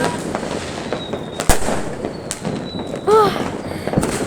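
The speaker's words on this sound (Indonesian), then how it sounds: "Ini dia kembang apinya." New Year fireworks crack and pop at a distance, with a sharp bang, a few whistling rising shells and scattered bursts over a steady crowd-like background murmur.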